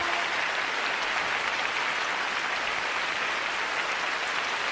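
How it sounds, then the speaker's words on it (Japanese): An arena audience applauds after Yuzuru Hanyu's figure skating performance with sustained, dense, even clapping and no shouting, holding steady throughout. "大きな声を出したいと思うような、そんな衝動を抑えながらの拍手です。"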